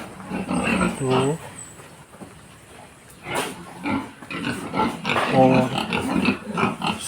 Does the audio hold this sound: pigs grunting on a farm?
yes